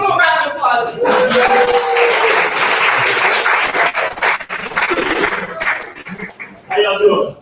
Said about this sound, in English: Mr. Parker, give him a round of applause.